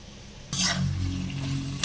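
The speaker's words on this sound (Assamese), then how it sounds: "আটাইখিনি ধুনীয়াকৈ ভাজি লৈ ল'ম 5 মিনিটমান" A sudden loud sizzle bursts up as potatoes hit hot oil with peas, then settles into steady frying with a brief scrape near the end.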